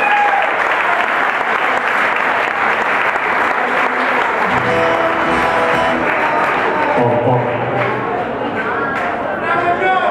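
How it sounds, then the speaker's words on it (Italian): Loud, sustained applause from an audience at a music performance, a dense continuous roar of clapping that carries through the whole stretch, with cheering and a few voices mixed in toward the end. "Un grande applauso al cuore"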